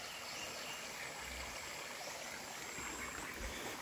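Mountain stream on a hiking trail flowing steadily, a soft continuous rushing and trickling of water heard at a distance, faint and unbroken.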